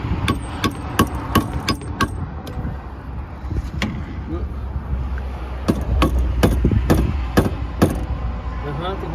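Someone taps a cracked fuel filter with a wrench, making a series of sharp metallic knocks in two bursts over a low engine-like hum. Speech is faintly present.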